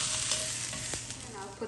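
Radicchio sizzles on a smoky barbecue grill pan with a continuous bright hiss and an occasional soft pop, close and alone.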